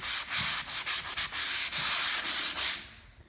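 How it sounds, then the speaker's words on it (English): Rhythmic abrasive rubbing of a sanding block across drywall, a series of close, loud strokes with brief pauses between them and no voices. "So you need a sanding block."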